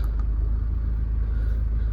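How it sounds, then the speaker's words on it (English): A Range Rover Evoque 2.2 SD4 diesel with 105,465 miles, idling with a loud, steady low rumble and no breaks, heard close and alone. "Start the car up."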